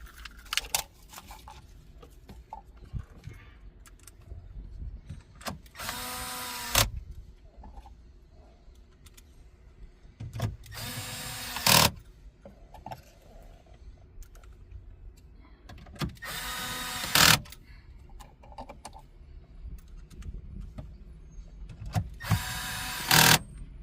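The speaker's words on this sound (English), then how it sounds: "So at this point, we are just going to bolt up our PCM." Four short whirring bursts from a power tool, spaced several seconds apart, drive in bolts holding a car's PCM module during an aftermarket CarPlay/Android Auto install, with quieter handling clatter in between.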